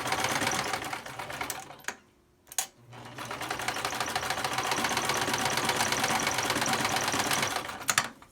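A sewing machine stitches a fabric surgical mask, running in a fast steady mechanical chatter that fills the clip, briefly pausing once before resuming close and loud.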